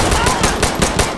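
Rapid automatic gunfire in the Insurgency Sandstorm video game, a loud burst of about six evenly spaced shots in quick succession, sharp and close with no talking.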